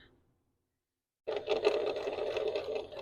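A sewing machine stitches quilt binding in a fast steady whir that starts abruptly after a second of quiet and runs on close and alone.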